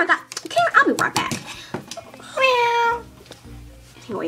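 A voice imitates a cat's meow in a drawn-out, wavering cry near the middle, surrounded by lively children's chatter and laughter.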